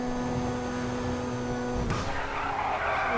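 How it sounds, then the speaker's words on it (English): A Grotti Carbonizzare sports car in GTA V drifts, its steady engine drone breaking into a loud, harsh tire squeal and skid noise about halfway through that carries on to the end, with no talking. "Oh, that drift though"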